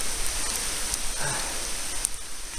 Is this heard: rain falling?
yes